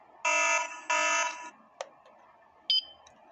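A Hikvision AX PRO alarm system sounds two loud electronic siren blasts back to back after its PIR sensor detects motion, followed by a sharp click and a brief high beep as it is disarmed by remote, with no voices.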